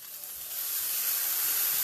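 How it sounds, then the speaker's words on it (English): Salmon fillet frying in a pan as lemon juice is splashed on, a steady bright hiss of sizzling that swells slightly louder over a couple of seconds. "Ooh, sizzle, baby, sizzle."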